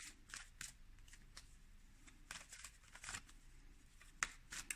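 A deck of angel cards is shuffled in quiet, crisp riffling and snapping bursts with short pauses between them, close and soft, with no talking.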